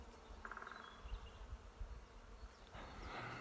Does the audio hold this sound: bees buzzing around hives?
yes